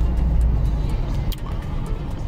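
Interior rumble of a Citroën Xsara Picasso car driving along the road, a steady low engine and tire drone with faint ticking in the cabin.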